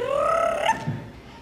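A person's voice imitates the call of a northern parula warbler, giving a short rising buzzy trill that sweeps upward and ends abruptly, followed by a faint breath.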